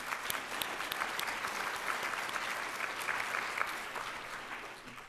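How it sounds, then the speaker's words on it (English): Audience applause at a hand course session, a steady round of clapping from a sizable crowd filling the whole stretch, moderately distant and even in level with no speech over it. "I just want to give them a round of applause for all the great work they put in"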